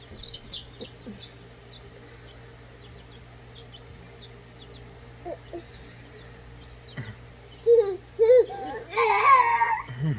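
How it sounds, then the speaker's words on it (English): Chickens cluck and call softly at a farm supply store, with a baby's fussy cries rising near the end over a low steady hum. "Do you see those chickens?"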